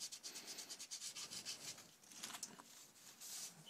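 A tool scraping a printed logo off the cover of a sketchbook gives a quiet, continuous rubbing and scratching with short, uneven strokes, close by and alone.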